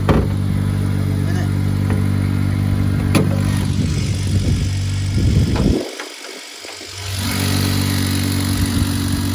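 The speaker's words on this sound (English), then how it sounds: "These are 2 litre turbo engines that produce 360 brake horsepower" A 2-litre turbo engine in a 2020 Mercedes-AMG A45 idles loudly and steadily up close with some clattering, briefly goes quiet, then resumes its rumbling idle.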